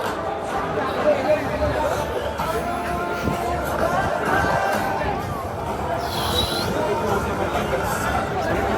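Steady crowd chatter outside a concert in Mumbai, a constant babble of many voices at moderate distance with no clear individual words and a brief higher-pitched tone partway through.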